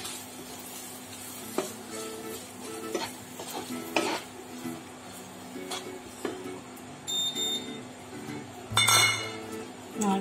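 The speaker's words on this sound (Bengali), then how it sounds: "এবার আমি কুচি করে নারকেলটা দিয়ে দেবো।" Chopped coconut goes into a pan while preparing steamed modak, giving repeated stirring scrapes and light metallic clinks with a soft sizzle throughout, close and steady with several louder bursts.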